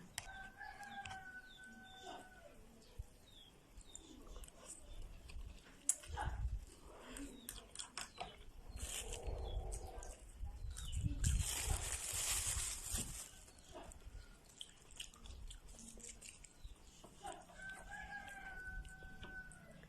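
Chickens on a hot rural Thai homestead crow and cluck nearby, with a rooster's call at the start and end and scattered clucks and rustling in between.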